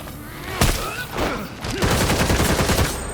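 Rapid automatic gunfire rattles through a video game battle, a sharp single crack followed by a dense, continuous burst of shots that carries to the end, loud and close.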